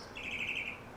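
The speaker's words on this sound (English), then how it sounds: "there's a really loud bird outside" A loud bird calls outside, a single sustained high chirping call rising over quiet background, fairly faint overall and brief.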